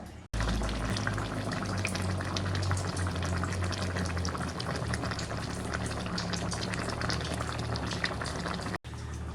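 Naga-style pork curry boiling in water in a pot, a steady, close bubbling and gurgling that runs on continuously with no voices.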